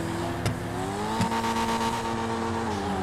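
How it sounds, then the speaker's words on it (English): A car engine revs loudly and continuously in the GTA 5 video game, its pitch climbing and shifting steadily with a couple of sharp transient bursts, no talking over it. "Oh my god, the engine is so loud too."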